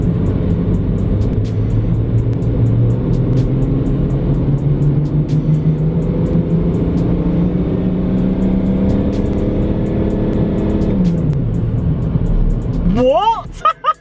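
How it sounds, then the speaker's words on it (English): A car engine runs steadily on a dyno, a loud continuous drone with slowly rising pitch that drops off near the end, followed by a brief flurry of voices. "we're just going to warm up the engine a little bit before we do an initial run on the car"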